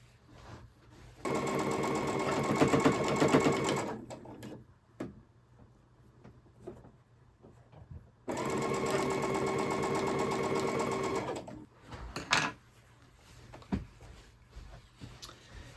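A sewing machine stitches a pinwheel quilt block in two steady bursts of a few seconds each, close and loud, with quiet handling noises between the runs.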